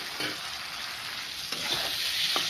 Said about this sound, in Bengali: দিয়ে টমেটোটা অনেকক্ষণ কষাবো